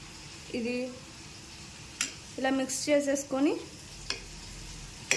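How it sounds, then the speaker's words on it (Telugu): Fried bitter gourd pieces being stirred into a thick homemade pickle, giving soft, wet squishing and scraping strokes in a few short bursts, close by, with brief voice-like tones between them. "ఇందాక మనం వేయించి పక్కన పెట్టుకున్న కాకరకాయ ముక్కలను కూడా ఇందులో వేసేసి బాగా కలుపుకొని మనం ఇలా మిక్స్ చేసేసుకొని"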